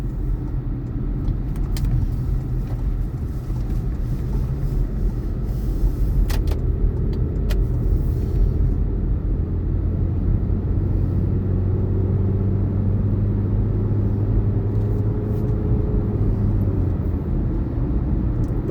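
A car driving home along a road gives a steady, loud low rumble of engine and tyre noise throughout, with no voices.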